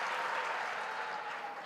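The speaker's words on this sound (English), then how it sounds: "I would really want to ask you to give a round of applause for everyone who came in here" A graduation ceremony audience at Walter Sisulu University applauds in a dense, steady wash of clapping that fills the whole stretch at an even, fairly loud level.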